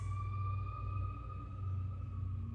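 A steady wailing siren held on a sustained tone, heard at a distance over a low rumbling background.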